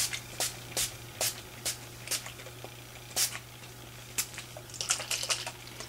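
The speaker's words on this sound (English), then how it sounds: "we're going to just spray our lace and our seam binding together." Repeated short sprays from a pump bottle misting colour onto lace and seam binding, spaced irregularly, some in quick clusters, over a faint steady hum.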